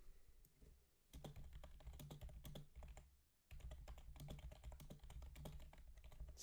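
Quick bursts of computer keyboard typing, crisp close clicks in two runs separated by a brief pause, with no voices.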